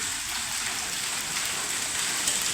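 Hail pelts down during a hailstorm in Sirsa district, a dense, steady roar of impacts on surfaces, loud and continuous with no pause and no talking.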